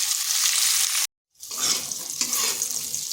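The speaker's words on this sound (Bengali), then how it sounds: "এদিকে পটলটা ভাজা হচ্ছে" Pointed gourd pieces fry in oil over medium heat with a steady, close, dense sizzle that cuts out briefly and then carries on.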